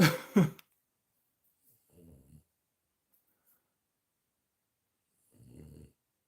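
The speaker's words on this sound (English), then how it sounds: "And now the snoring continues." Two soft, low snores, spaced a few seconds apart with silence between them, follow a short throaty rasp at the start; all quiet and close, with no talk.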